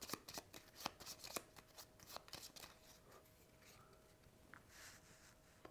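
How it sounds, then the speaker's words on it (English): A small deck of move cards for a tabletop puffin card game being shuffled close by, with quiet riffling and soft slaps and flicks repeating over several seconds, no voices. "giving those a good shuffle"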